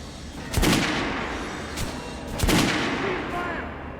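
Two loud, close gunshots with booming tails ring out about two seconds apart at a firing range in the video game Metro Last Light, followed by a fainter report.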